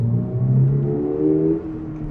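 Toyota GR86 engine revs steadily under load during a manual gear change, a close, loud droning note that rises slightly and then eases off as the shift comes.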